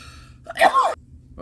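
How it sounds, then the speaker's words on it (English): A single short, sharp sneeze close by, preceded by a quick intake of breath, in an otherwise quiet setting. "I had to sneeze one more time"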